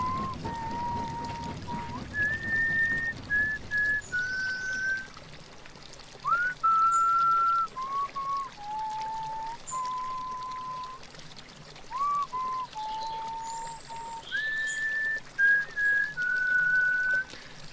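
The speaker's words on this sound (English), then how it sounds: "I came to a bridge and fell to whistling." A person whistles a slow, wandering tune by a bridge over water, clear sustained notes in short phrases with gaps between them, over a soft running-water background.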